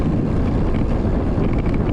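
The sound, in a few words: strong wind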